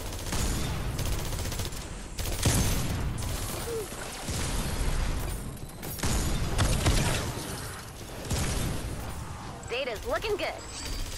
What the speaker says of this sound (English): It seems like the defenders can shoot through walls.